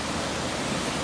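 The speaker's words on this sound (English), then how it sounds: "the water is raging across this bridge" Raging water rushes across a trail bridge at night on the Ouachita National Recreation Trail, a loud, unbroken roar heard close up with no voices.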